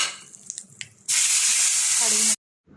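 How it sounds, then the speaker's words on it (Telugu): A tempering for tomato chutney crackles faintly in hot oil, then bursts into a loud, close hiss for about a second as asafoetida goes in, and stops abruptly. "ఇలా చిటపట్లాడుతున్న పోపులోకి కొంచెం ఇంగు వేసేసి"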